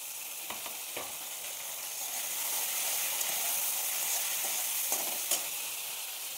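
Chopped tomatoes fry with browned onions in a pan, giving a steady close hiss of sizzling oil that swells slightly midway, broken by a few faint clicks, with no voices.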